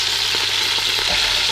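Chicken browning in olive oil in a pan for an Italian-style dish, a steady close hiss of frying with a few soft stirring knocks, no voices.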